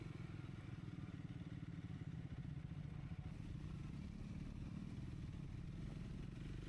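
A Triumph Scrambler 400X motorcycle riding an off-road trail, its engine a steady close rumble with clattering and crackle mixed in, holding a fairly even level without clear revving peaks.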